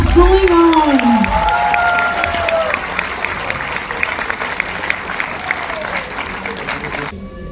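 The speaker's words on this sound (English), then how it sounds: "Keep the claps going on." Audience clapping at a school annual function, dense applause with a few cheers opening the clip, then continuing as lighter, steady clapping until it cuts off near the end.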